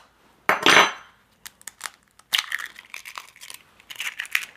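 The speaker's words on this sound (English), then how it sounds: "Then we're gonna drop an egg in there." An egg is dropped into a bowl of sugar and cacao mix and stirred, starting with a loud close crack and splat, then a run of quick scraping and clinking stirs against the bowl.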